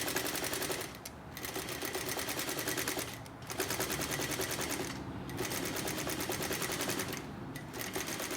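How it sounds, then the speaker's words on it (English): Sewing machine running a French seam at a quarter inch, a close, steady rapid needle rattle sewing in long runs broken by a few brief pauses. "I'm just going to start sewing at 1/4 of an inch."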